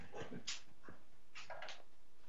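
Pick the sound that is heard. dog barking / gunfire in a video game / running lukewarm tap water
dog barking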